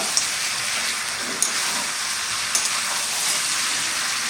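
Duck meat frying and being stirred in a small wok, giving a dense continuous sizzle with a few light clicks of the spoon against the pan.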